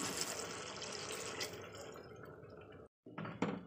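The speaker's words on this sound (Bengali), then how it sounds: "তো দেখতেই পাচ্ছেন দিয়ে দিচ্ছি জল।" About one cup of water goes into a cooking pot as a dish of onion kalia is prepared, giving a soft, continuous splashing pour that breaks off briefly near the end and then resumes.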